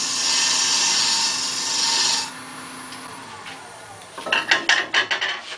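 A bowl gouge cuts wood on a lathe, giving a loud continuous scraping hiss for about two seconds. It then drops to a quiet hum, followed by a burst of short rhythmic rasping strokes near the end.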